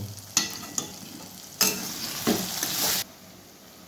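Cumin and coriander powder masala is stir-fried in a pan for chicken biryani, a soft sizzle broken by a few spoon clacks and a longer bright burst of scraping, with no talking.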